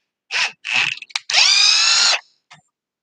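A power drill whirs in short bursts against a slick low-friction plastic, two brief spins and a quick blip followed by a longer steady high whine, then silence and a faint final tick.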